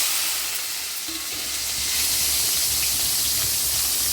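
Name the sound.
mustard seeds, asafoetida, shallots and tomato sizzling in oil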